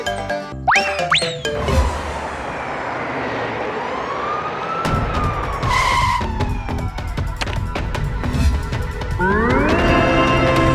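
A cartoon fire engine siren wails loud and close, its tone sweeping up and down repeatedly, with screeching skid-like slides and no voices.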